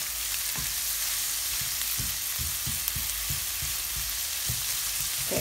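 Garlic sizzles in a pan on medium-low heat with a steady bright hiss, broken by occasional soft taps and clinks from stirring, close and fairly loud.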